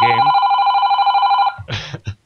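A phone rings with a bright electronic trill in one sustained burst, loud and close, followed by brief muffled voices and noise as it stops.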